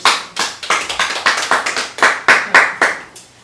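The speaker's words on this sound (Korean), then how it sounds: "감사의 박수." A Baptist church congregation claps in thanks after a sermon, roughly a dozen loud, close claps in a quick, fairly even rhythm that fade at the end.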